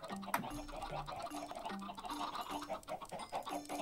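Faint, repeated soft clucking from chickens, short low notes spaced irregularly over a hushed background.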